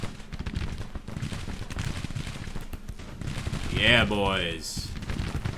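Artillery and rifle fire from a Civil War battle in the strategy game Grand Tactician, a steady rattle of gunfire with a rising whistling sweep near the end, heard under a brief spoken remark.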